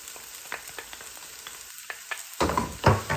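Green chilies frying with softened onions in a pan, a soft hiss with scattered spatula taps, then louder stirring and scraping near the end.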